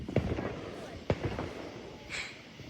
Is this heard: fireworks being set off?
yes